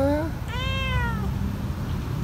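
A stray cat gives one clear, drawn-out meow up close, with a short cry just before it, over a low background rumble.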